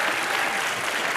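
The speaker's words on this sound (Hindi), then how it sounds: "जोरदार तालियां इनके लिए।" A studio audience at a comedy show breaks into loud, dense, continuous applause that fills the whole short moment.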